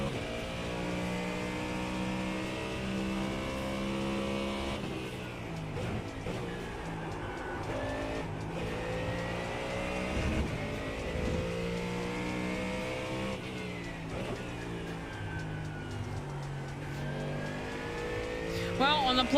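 Race car engine in a racing simulator at Watkins Glen, holding a steady high drone with rising and falling revs through gear changes and braking for corners, loud and continuous, with a voice talking faintly underneath.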